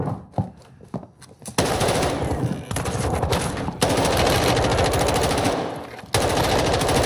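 Loud sustained automatic fire from an M4 in Warzone 2, in long continuous bursts with brief pauses, close and dominant, with a few isolated shots at the start.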